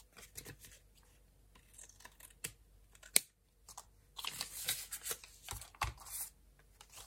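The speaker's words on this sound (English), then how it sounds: "I'll just cut off this, what we don't need, so it's not confusing me." Scissors snipping through thin packaging material near the mic, several short crisp cuts and crinkles in bursts, with no one speaking.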